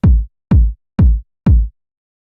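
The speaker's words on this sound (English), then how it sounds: "Now let's add a kick drum, which sounds like this." Four punchy synthesized tech house kick drum hits sound alone, evenly spaced about half a second apart, each a deep thump with a short pitch drop and a fast decay.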